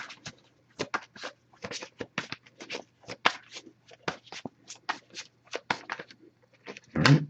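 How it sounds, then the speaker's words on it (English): A deck of tarot cards is shuffled by hand in repeated quick riffles and slaps, close and crisp, in irregular bursts with short pauses and a louder rustle at the end. "if I shuffle for a while without anything coming up, I'll actually just put the deck down and pull cards that way"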